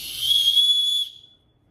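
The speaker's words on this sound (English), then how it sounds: "It's got a little safety whistle on it." A small safety whistle on an Orange Mud HydraQuiver Vest Pack 2 running hydration vest gives one short, shrill, piercing blast lasting about a second, loud and close, then cuts off into silence.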